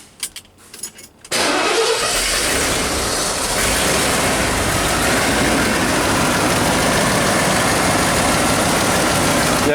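A 1988 Ford F350 dump truck's V8, suffering a misfire and low power, cranks and fires up, then settles into a loud, steady idle with a rough, continuous rumble close by.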